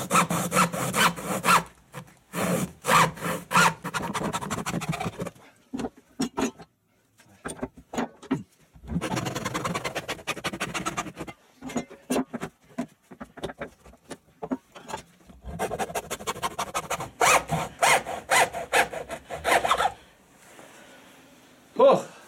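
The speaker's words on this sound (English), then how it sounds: "we're going with the old-fashioned hacksaw" An old-fashioned hacksaw cuts through a DIY motorcycle kickstand pad for a DR650, loud rhythmic back-and-forth rasping strokes in several long bursts with short pauses between them, close up.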